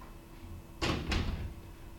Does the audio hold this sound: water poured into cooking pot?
no